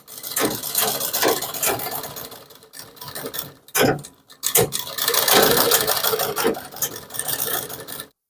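Sewing machine stitching around pasted paper on kurti fabric, close bursts of rapid mechanical chatter broken by short pauses and handling noises between runs.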